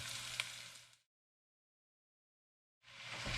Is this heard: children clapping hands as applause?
no